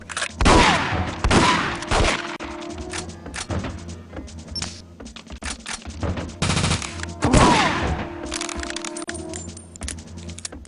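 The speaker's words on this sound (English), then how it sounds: "We're going to switch to a new weapon, the Mustang 44, which is a scoped revolver." Mustang 44 scoped revolver firing in The World Is Not Enough video game: several loud, sharp, echoing single shots spaced a few seconds apart, each followed by a ringing tail, with quieter background hum between.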